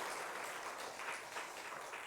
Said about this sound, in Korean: 다시 한번 큰 박수로 수고해 주신 분들께 영광을 돌리겠습니다.